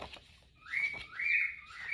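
Pet birds at home chirp and whistle in a few bright, tonal bursts that rise and fall over two seconds, fairly close and clear with no talk.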